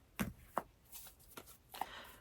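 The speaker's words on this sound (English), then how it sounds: "So let's go ahead and cut the deck together." A deck of tarot cards being cut by hand, a few short close papery slaps and riffling bursts spaced irregularly in a quiet room.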